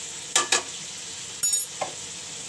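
Fish curry masala sizzling in a pan after turmeric powder goes in, with a spoon scraping and stirring in several short close bursts over a low, steady background hiss.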